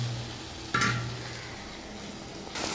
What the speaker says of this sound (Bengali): এর সঙ্গে এবার আমি আলু দিয়ে দেবো, আলুগুলো যে ভেজে রেখেছিলাম